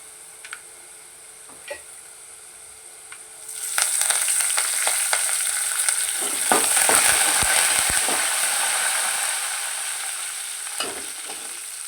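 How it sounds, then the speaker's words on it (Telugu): Asafoetida and curry leaves hit hot oil for tempering after a dried red chilli has fried, starting with quiet ticks and then erupting into a loud, crackling sizzle that slowly settles, with no talking. "ఇంగు వేసి కరివేపాకు వేసుకుందాం"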